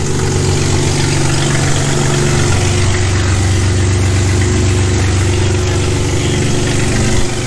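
A BMW E46 engine fitted with longtube headers idles loudly and steadily nearby, its deep exhaust rumble droning without a break.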